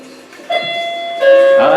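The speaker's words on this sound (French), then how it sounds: "Checkpoint." A checkpoint chime in the video game LittleBigPlanet rings out as two loud, bright bell-like tones, the second louder and sustained, like a doorbell ding-dong, with faint voices murmuring underneath.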